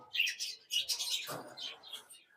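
Pet budgerigars chirp in close, busy bursts of high warbling tweets, a male bred in the owner's own aviary setup among them, with brief pauses between the chattering phrases.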